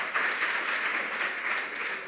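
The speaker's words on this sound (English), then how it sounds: "A round of applause to my contestants." An audience applauds quiz contestants at a junior secondary school science quiz competition, brisk even clapping of a modest crowd heard close and alone, steady and sustained for a couple of seconds.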